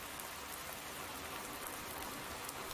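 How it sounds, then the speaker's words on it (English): Steady rain hisses down in the Farming Simulator 19 game on the Ravenport map, a soft, even wash of falling drops with no voices. "We sit here and watch it rain"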